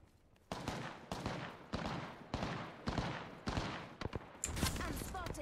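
Gunfire from the video game Apex Legends rattles out in rapid repeated bursts, loud and close, with brief gaps between volleys and a sharper burst near the end.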